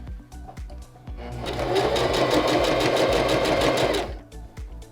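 A sewing machine stitching a pleat on a chef's hat runs in one steady, rapid whirring burst of about three seconds, close and loud, with softer clicks and handling noises before and after.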